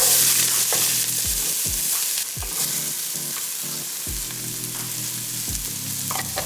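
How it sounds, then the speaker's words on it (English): Onions and garlic sizzling in smoking-hot oil for Filipino adobo, a steady frying hiss broken by several stirring or tossing clatters of the pan, close and without talk. "Onions and garlic are in. Give that a little toss."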